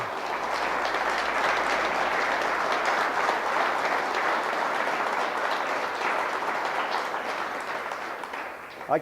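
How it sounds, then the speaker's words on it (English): An audience gives a sustained, steady round of applause for Minnie Lou Bradley at a ranch gathering, dense clapping holding for about nine seconds before ending. "right now we just gave a round of applause to Minnie Lou Bradley"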